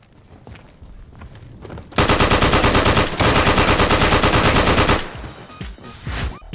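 Rapid World War II machine-gun fire from the shooter game Day of Infamy rattles in two loud, dense bursts, with a brief gap between them and scattered softer shots before and after.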